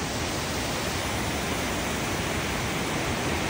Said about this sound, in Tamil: தண்ணி எப்படி போகுதுன்ட்டு உங்களுக்கு வாய்ஸ் கேட்குதான்னு தெரியல